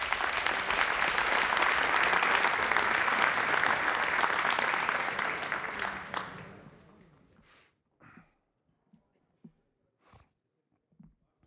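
A studio audience on the TV program Sones gives loud, sustained applause to welcome a musician. The applause fades out after about seven seconds, leaving a few faint scattered taps.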